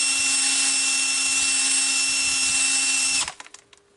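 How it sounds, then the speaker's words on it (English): A drill spins a dingle ball hone inside a Scout cylinder, a loud steady high whine with a droning tone for about three seconds before it cuts off. A few scraping clunks follow as the hone winds down. "what I use to hone it is just a big old dingle ball here"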